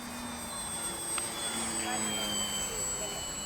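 XFly Glastar 1.2 m electric RC trainer plane on 50C batteries, flying in wind and rain, giving a faint steady motor whine with a high thin tone over constant wind and background noise.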